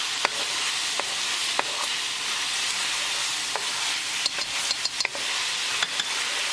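Chilli fish is stirred in a hot pan with soy and hoisin sauce, a loud continuous sizzle punctuated by sharp spatula taps and scrapes, close up with no talking.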